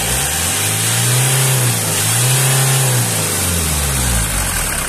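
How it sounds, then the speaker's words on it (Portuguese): Car engine just after a turbo repair, revved up twice from idle in close, loud surges that rise and fall over a constant rumble. "Vamos dar uma aceleradinha pra ver."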